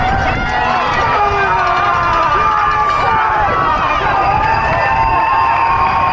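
A dense, loud roar of spectators cheering and shouting on Tower Bridge during the London Marathon, continuous and enveloping with whistles and high voices rising above the din.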